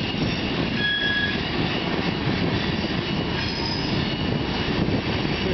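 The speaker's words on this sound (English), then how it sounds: "Oh, look at that vintage Northern American hopper." A CN freight train hauling vintage hopper cars rolls through Bayview Junction in Hamilton, Ontario, with steady wheel rumble and clatter plus thin squeals of wheels on rail, close and continuous, no talk.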